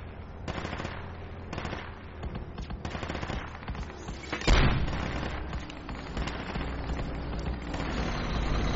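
In a military video game, an LAV armored vehicle's cannon fires rapid bursts of heavy shots, loud and fairly close, with rumbling battle noise in the background and one sharp boom midway.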